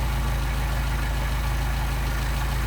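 A Mercedes 190SL engine idles steadily on Solex carburetors during adjustment, a loud, even, low rumble with a regular pulsing beat throughout.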